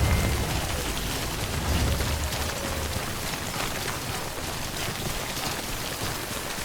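Timefall rain pouring in the video game Death Stranding, a steady dense hiss of rainfall with low rumbling underneath, continuous and fairly loud throughout.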